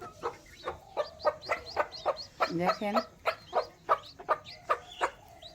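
A flock of chickens clucks while being fed in the morning, with short, sharp, close clucks coming in a quick, steady rhythm and one longer, rising squawk partway through.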